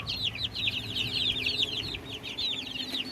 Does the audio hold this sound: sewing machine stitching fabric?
no